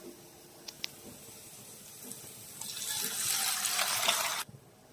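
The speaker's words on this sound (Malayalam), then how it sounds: "റവ വേവാനുള്ള വെള്ളം ഒഴിക്കാം." Water poured into a pan for cooking rava for uppuma: a few faint clinks, then a loud, hissing rush of liquid builds for about two seconds and stops abruptly.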